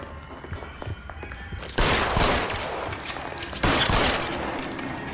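Video game gunfire crackles in two sharp, loud bursts of rapid shots, each dying off into a lingering rattle, separated by quieter ambient game sound.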